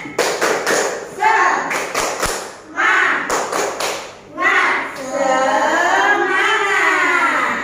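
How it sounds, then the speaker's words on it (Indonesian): A school class doing a rhythmic spirit clap, with sharp claps and taps in short patterned bursts, children chanting along, and a teacher's voice leading and cueing between the rounds. "mari kita tepuk semangat dulu ya"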